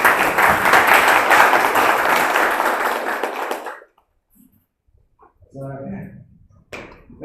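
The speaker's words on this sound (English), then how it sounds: "So big round of applause again." Loud audience applause at a VR tech meetup in Tokyo, a dense burst of clapping that stops abruptly at about four seconds, followed by near silence and a few brief sounds.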